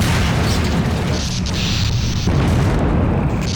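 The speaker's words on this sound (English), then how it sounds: "And now we have APCs who fire rockets at us." Rockets fired by an APC in Half-Life 2 burst as a dense, continuous roar of booming explosions and rumble, loud and close, with heavy low-end impacts running one into the next throughout.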